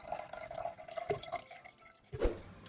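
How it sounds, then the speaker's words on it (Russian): Water pours from a tap into a container at a kitchen sink, with scattered drips and small splashes over a soft running flow and one sharper splash near the end. "Наполняю свою бочку водой."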